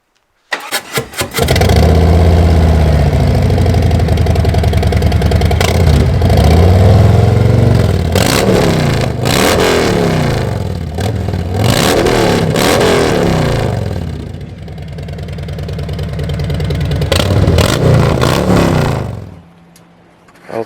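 A Harley-Davidson Road Glide Special fitted with Bassani head pipes cranks and fires, then revs loudly in repeated blips and settles to a rumbling idle before shutting off; close, very loud, no talking.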